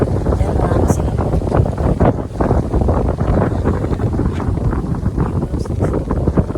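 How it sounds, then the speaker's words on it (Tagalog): Strong outdoor wind buffets the microphone near a restaurant, making a loud, continuous rumbling roar with gusty surges throughout and no voices. "Lakas ng hangin."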